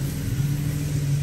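A 1987 Buick Grand National engine idles steadily during its first start in 2024, giving a close, even, low rumbling drone with a constant hum and no talking.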